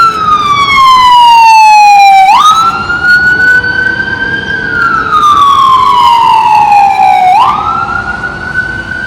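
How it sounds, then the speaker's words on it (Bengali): An ambulance siren wails loudly on a street, its pitch sweeping down and then jumping back up in long repeating cycles as it passes close by. "ও আচ্ছা অ্যাম্বুলেন্স যাচ্ছে"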